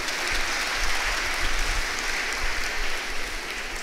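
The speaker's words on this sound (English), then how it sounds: "Can you all give a big round of applause to Care?" Dense, loud applause from a school annual day audience, continuous and even throughout with a heavy roomy rumble underneath.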